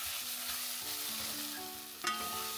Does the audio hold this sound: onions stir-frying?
yes